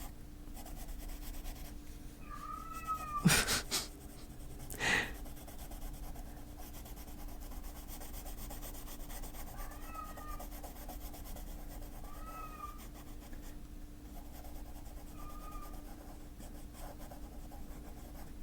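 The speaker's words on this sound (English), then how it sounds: "He acts like he's dying, that cat. He just likes to talk." A pet cat meows several times in short, faint calls spaced across a steady background, alongside the soft scratch of coloring on paper indoors.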